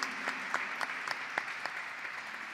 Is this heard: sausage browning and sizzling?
no